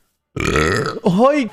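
A Mexican streamer lets out a loud, drawn-out burp that ends in a short vocal exclamation, close and clear against otherwise silent surroundings.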